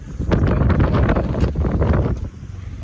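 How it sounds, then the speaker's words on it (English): Gusty wind buffets the microphone on a fishing boat during a rain squall at sea off Waihau Bay, a loud, continuous roaring rush with surging gusts and no speech. "Just coming to another rain shower and it's squalling and windy"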